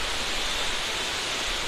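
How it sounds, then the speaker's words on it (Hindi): Waterfall at Sevoke near Siliguri: a steady, dense rushing roar of falling water fills the whole stretch evenly, close and unbroken, with no voices. "झरना तो बहुत अच्छा दिखाई दे रहा है"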